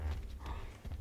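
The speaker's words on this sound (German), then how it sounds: "Da unten sind Pferde." Horse hooves clip-clopping in the game ARK, a steady muffled thudding rhythm of several hoofbeats at moderate distance, heard alone without voices.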